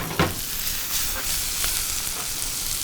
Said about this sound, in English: when I get ready to do the shrimp that's over here, I'm gonna saute that as well